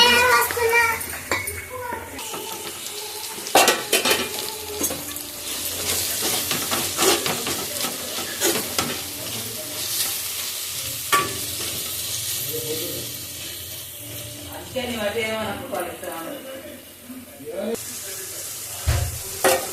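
Curry with tomato, chilli powder and salt stirred and fried in a pan, bursts of sizzling with scraping and clinking of utensils against the pot, while people, including a child, talk intermittently nearby.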